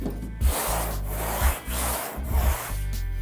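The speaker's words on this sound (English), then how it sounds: "So this is called block sanding." Rhythmic back-and-forth block sanding strokes rasp against a car body panel, about five passes at a steady pace, close and fairly quiet.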